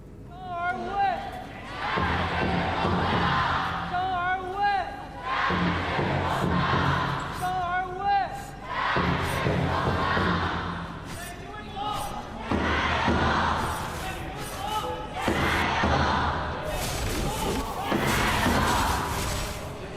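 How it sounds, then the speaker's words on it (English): Fans in an arena crowd at KPL esports summer playoffs cheering and shouting in loud sustained bursts, with thumps and swells of noise throughout. "the fans have done their cheering"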